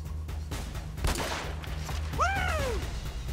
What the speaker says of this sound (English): Nice shooting, Tex. Keep it up.